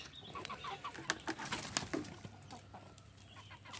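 Chickens on a farm, gathered in a flock, give off a scatter of short clucks and squawks close by, irregular and overlapping, with other bird calls mixed in.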